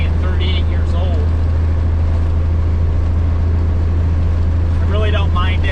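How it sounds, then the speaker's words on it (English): The engine of a 1983 cabover truck runs with a deep, steady drone, heard from inside the cab with the motor underneath, while someone talks over it near the start and the end. "it's really not a loud truck for being a 1983 and 38 years old."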